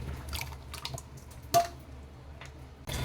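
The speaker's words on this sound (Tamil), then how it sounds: "இப்போ பாருங்கள் நம்ம புளியை ஆட் பண்ணிடலாம்" Dissolved tamarind water poured into a pot of brinjal and drumstick sambar: soft splashing and dripping liquid with a brief louder splash midway, close and quiet, with no talking.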